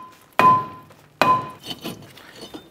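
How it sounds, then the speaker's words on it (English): Two sharp, loud mallet blows on a brake rotor being knocked free from a 2006-2013 Chevrolet Impala hub, each ringing briefly with a metallic tone, followed by lighter clatter. "Let's go ahead and use our mallet."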